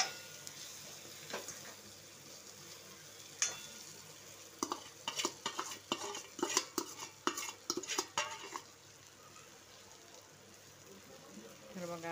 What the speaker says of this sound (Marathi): तेलात आता मस्त त्यांना थोडे कडक करून घ्यायचे